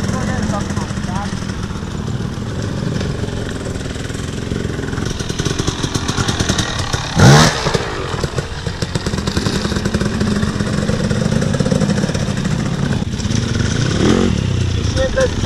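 Motorcycle engine running steadily while the rider coasts with the clutch held in during low-speed pipe-crossing practice, a continuous near drone with some clatter and a brief sharp burst in the middle.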